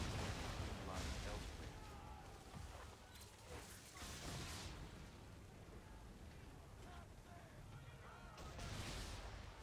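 Cannon fire at sea in Assassin's Creed III, heavy booming shots bursting repeatedly over a dense, noisy battle backdrop of crashing and rumble.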